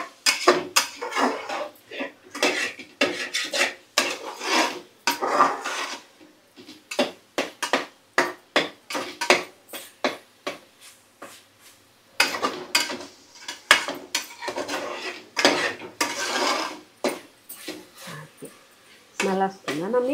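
Jackfruit curry being stirred in a pan, Konaseema style, with a spoon scraping and clinking against the metal in quick repeated strokes, close and fairly loud, with a voice talking at times.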